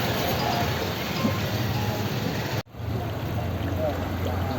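A ferry boat crosses the river from Jhalpara ghat to Kalighat ghat in Sylhet, its engine giving a steady, close, rumbling hum over broad wash noise, with a brief dropout near the middle.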